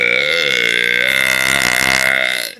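One long, loud, drawn-out burp, deep and rumbling, sustained for over two seconds before trailing off, with no speech.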